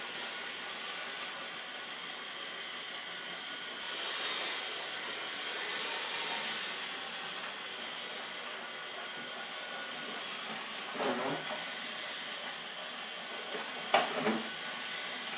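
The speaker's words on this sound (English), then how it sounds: "the robot mop is very quiet because it doesn't sweep, but only spins mopping pads" Botslab M20 robot mop spins its mopping pads with a soft, steady whirring hiss, faint and continuous, broken by a few light knocks and clicks near the end.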